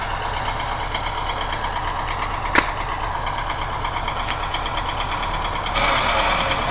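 A tractor engine sitting stuck in water runs steadily with a knocking idle rumble, close and continuous, with a single sharp click partway through and a slight rise near the end.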